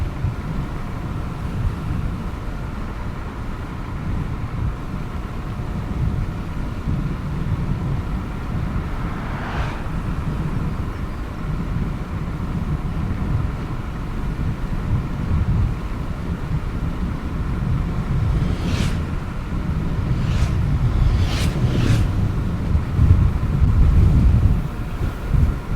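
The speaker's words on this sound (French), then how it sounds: "Là on est en petite montée les gars. Donc la trottinette va un peu galérer je pense." A Teverun Fighter 11+ electric scooter climbing a small hill at speed, mostly heavy wind rush buffeting the microphone with a faint motor whine beneath and a few short sharp squeaks near the end.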